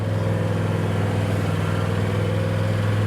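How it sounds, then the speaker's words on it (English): A 2023 John Deere X390 riding lawn mower engine running while driving, a steady loud low droning hum with no change in pitch, heard close and alone. "driving this mower, very easy"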